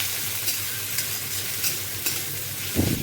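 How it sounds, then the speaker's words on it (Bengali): Chopped garlic, onion and green chili frying together in hot oil in a home kitchen, a continuous sizzle with a few stirring scrapes and a louder clatter near the end, close and without talk. "একটু রসুন কুচি একটু পেঁয়াজ কুচি আর একটু লঙ্কা কুচি এই পুরোটা একসঙ্গে দিয়ে দেবো"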